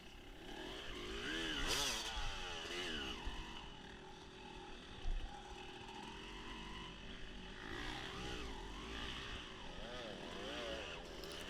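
An off-road motocross bike races through a lap at a District 17 GP event at Fox Valley Off Road, its engine droning steadily with rising and falling revs throughout, close and loud.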